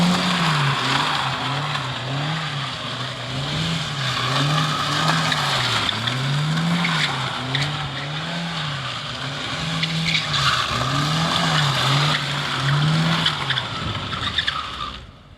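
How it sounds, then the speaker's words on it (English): NB car with no rear bumper doing donuts, tires skidding and squealing continuously while the engine note rises and falls in a steady looping rhythm, close and loud, no talk. "Kendall's gonna hit some donuts though."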